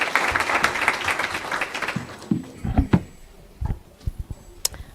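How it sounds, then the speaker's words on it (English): An audience at a seminar claps for a welcomed speaker, a dense burst of applause that thins out into scattered claps and light knocks. "please welcome her with a round of applause"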